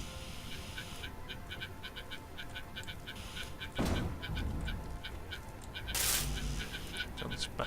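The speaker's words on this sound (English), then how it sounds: "John's back out again with his ducks." Ducks quack in a faint, fast, repeated pattern through the whole stretch, set against a low background hum, with two louder bursts of noise cutting in partway through.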